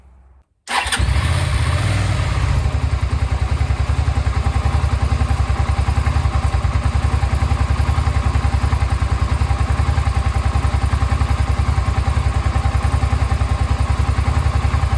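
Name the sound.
Suzuki SV650 motorcycle engine starting and running after 6 years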